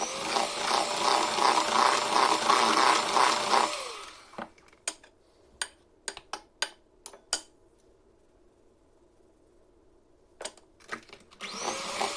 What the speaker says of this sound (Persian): آرد رو توی 3 مرحله به مواد اضافه میکنیم، با دور کند همزن هم میزنیم